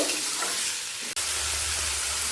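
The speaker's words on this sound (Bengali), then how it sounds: "চিংড়ি মাছটা পেঁয়াজ আর লঙ্কার সাথে একই সাথে" Prawns coated in salt and turmeric fry with onion and chilli in a hot pan, giving a steady broadband sizzle throughout, with one brief clatter of stirring midway.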